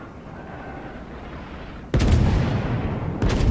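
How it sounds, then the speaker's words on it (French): Heavy warship cannon blasts in World of Warships, fired from the two forward guns, boom out after a quiet stretch, one big salvo followed by another a second later, loud and close. "Je tire qu'avec deux canons"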